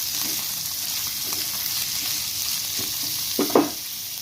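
Gongura mutton spare parts fry being stirred in a pan: a steady sizzle of frying runs throughout, with soft scraping stir strokes and a pair of sharper clinks of the utensil toward the end.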